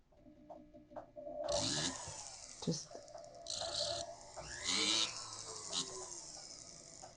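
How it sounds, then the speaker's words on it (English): High-pitched whine of a small rotary sanding disc touching down in several short bursts, with brief pauses between passes. "I also could have the sanding disc on my flex shaft and then just hit it."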